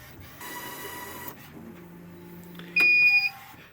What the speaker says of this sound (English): It's okay to open this cover while it's printing.